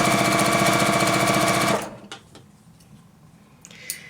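A sewing machine runs in a fast, steady burst of stitching across a quilt block from corner to corner, loud and close, then stops abruptly, leaving faint handling clicks and rustles.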